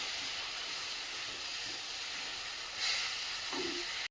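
Ginger-garlic spice paste frying in a pan for egg paneer, a steady loud hiss throughout, close, with a brief scrape near the end.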